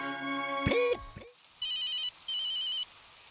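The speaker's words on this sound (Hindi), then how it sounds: "हेमंत का फोन इस वक्त?" A phone rings in two electronic bursts, clear and close, following a brief harmonic tone and a few knocks.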